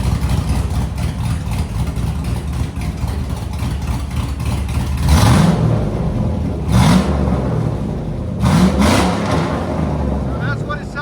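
Cammed Chevy Silverado 6.0L V8 with open headers, loud and close, idling with a harsh lumpy rumble and then revving sharply three times around mid-clip, no talking over it.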